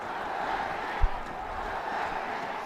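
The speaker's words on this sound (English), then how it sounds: "You can hear the chant going on. Bangladesh, Bangladesh." Home crowd at a Bangladesh Emerging versus South Africa Emerging one-day cricket match, a distant, faint massed chant rolling continuously across the ground.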